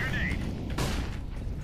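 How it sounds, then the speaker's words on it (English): A grenade detonates in the game Counter-Strike with a single sharp, booming burst that fades quickly amid in-game background noise. "Throwing grenade."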